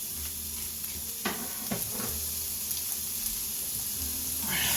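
Onions and beans sizzle steadily in a hot pan, with a few sharp scraping clicks as they are stirred around, moderately close and without talk.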